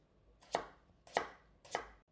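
A knife slices thin potato pieces against a board, three evenly spaced, crisp chops close by with quiet pauses between.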